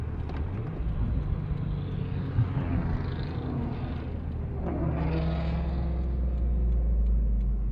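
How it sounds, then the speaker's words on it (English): A small convoy of nice cars driving past outdoors, a continuous rumbling engine roar that swells as one vehicle passes mid-way and builds again toward the end, with no talk. "That was a little convoy of nice cars."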